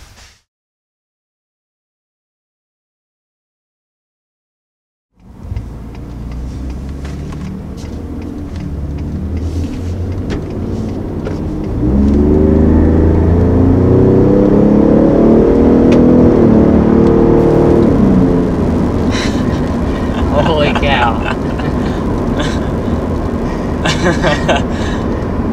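A 2020 Ford F-150 Raptor pickup truck drives after a silent opening, its engine rumbling steadily from inside the cab, rising as it accelerates, with some cabin clicks and a voice talking over it.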